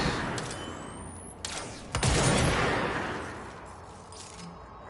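Gunfire in the game Control, a couple of sharp shots with ringing, echoing decay over a rumbling background, the louder second blast around the middle followed by a slowly fading tail.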